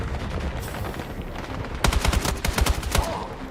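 Machine gun fire in a video game cuts in partway through as rapid, close bursts of sharp shots over steady background game noise.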